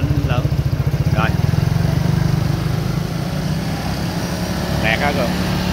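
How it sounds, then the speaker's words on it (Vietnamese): Honda SH 2020 scooter fitted with a 4Road aftermarket exhaust, its engine running steadily close by with a throbbing low rumble while people talk over it. "bây giờ mình thử nẹt bô coi cái âm thanh nó ở cái mức ga lớn nhất nghe như thế nào ha"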